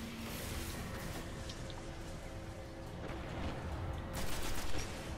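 Enemy gunfire in Destiny during a strike mission: dense, continuous volleys of weapon fire that grow a little louder toward the end, layered over steady game noise.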